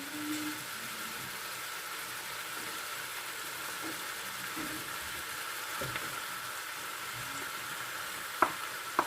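Sliced tomatoes fry in a pan with a steady soft sizzle while being stirred, a few sharp utensil knocks near the end, no voices.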